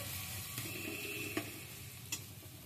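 Spice paste being sautéed in a pan while cooking a jackfruit momo filling, a soft continuous sizzle with a few light scraping stirs, quiet and close with no talking.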